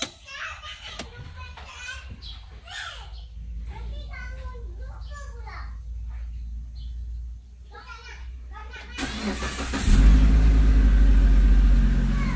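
A Proton Exora engine cranks and starts near the end, then idles loudly and steadily after several seconds of children's voices and people talking in the background.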